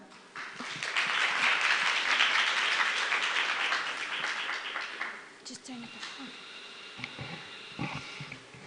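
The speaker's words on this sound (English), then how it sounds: "Give applause to Azra." A room of attendees at a talk breaks into applause for a speaker, a dense burst of clapping that swells for about five seconds and then fades, giving way to scattered sounds and a voice starting to speak.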